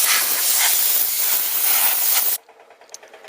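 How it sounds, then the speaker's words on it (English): Compressed air from an air compressor blows a lawn mower clean in a loud, steady hiss that runs for over two seconds, then cuts off abruptly into near quiet. "Now my air compressor is slow, so once I run out of air, I'll have to let it build back up."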